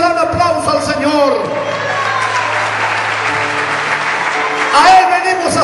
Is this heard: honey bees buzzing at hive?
no